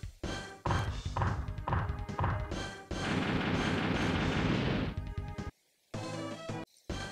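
Naval gun bombardment of harbor facilities in the SFC game Konpeki no Kantai, a run of loud chiptune-style blasts and crashes with a long dense explosion burst in the middle, then short bursts after a brief silence.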